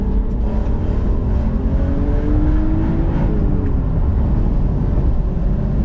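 An S52-swapped BMW E34 sedan's inline-six engine drones loudly from inside the cabin while accelerating in a straight line, its pitch climbing steadily under heavy road and wind roar with no voices.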